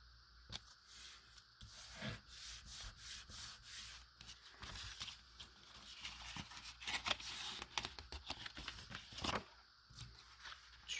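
A strip of cardstock being trimmed for a papercraft project, heard as close, rapid scraping and snipping strokes in a quick rhythmic run, followed by looser, scattered cutting and rubbing sounds.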